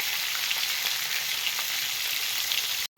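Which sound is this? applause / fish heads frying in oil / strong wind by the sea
fish heads frying in oil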